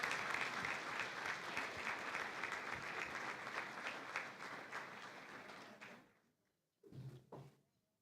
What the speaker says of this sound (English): let's give these three women a rousing round of applause